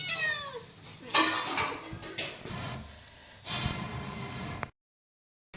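A cat meows several times up close, with rising and falling cries, a few quiet household clatters around it, then sudden silence near the end.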